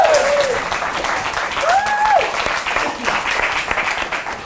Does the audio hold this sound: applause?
yes